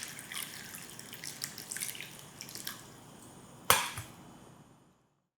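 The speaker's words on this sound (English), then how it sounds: "Soak them in hot water for about 30 minutes." Hot water is poured and splashes over dried shiitake mushrooms in a bowl, a run of small drips and trickles followed by one sharper splash before fading into quiet.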